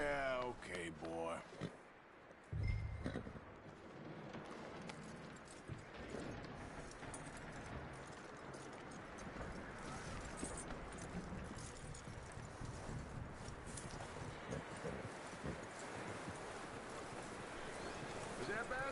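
Hooves of a horse in Red Dead Redemption 2 clip-clop in a steady rhythm under wind and outdoor ambience, with a heavier thump near the start and faint game sounds layered throughout.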